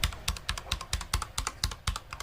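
Keystrokes on a Durgod Taurus K320 Nebula mechanical keyboard, a steady run of about a dozen fairly dull, close clacks in uneven typing rhythm, with nothing else in the background.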